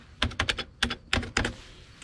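Keys clack on a restored Amiga 4000 computer keyboard, about a dozen quick, close strokes in short bursts, loud and alone with no talk.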